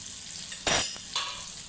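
Spice mix frying in a pan while being stirred with a utensil, with a loud burst of sizzle and scraping in the middle, softer crackle before and after, and no voices.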